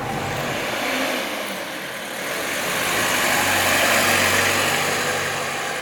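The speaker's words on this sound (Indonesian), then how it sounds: "sekarang gue bawa mobil si Agra BJ60" Toyota Land Cruiser BJ60 4x4 engine running, a loud, steady rumbling drone that dips briefly and then swells as it revs, with no talk over it.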